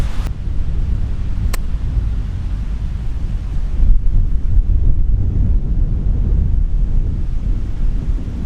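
Wind gusts steadily across an open golf course, giving a continuous low rumbling roar of wind buffeting the microphone throughout, with a brief sharp tick near the start.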